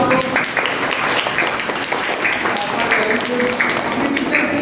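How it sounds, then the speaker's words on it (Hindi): A group of children at a school claps loudly and continuously for themselves, a dense, steady wash of applause with voices mixed in. "तो अपने लिए जोरदार ताली बजाएंगे आप लोग"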